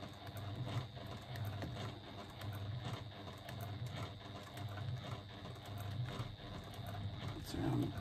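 A sewing machine running at a steady pace while top stitching around the outside edge at one-eighth inch, its rhythmic mechanical chatter close and continuous, with a voice talking over it.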